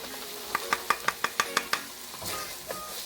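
Beef and ginger stir-frying in a pan: a fast run of about eight crisp tapping strokes, then a softer sizzle swells and a single stray knock follows, all fairly close.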